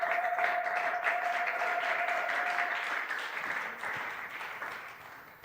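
Church congregation at a Sunday praise and thanksgiving service clapping together, a sustained, fairly close burst of applause that gradually thins toward the end.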